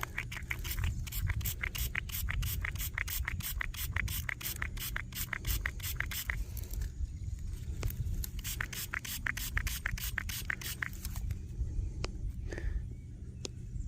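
Water sprays steadily onto an old Spanish silver one-real coin while it is rinsed clean outdoors, a continuous hiss with a rapid rhythmic scratching pattern running through much of it and briefly dropping away midway.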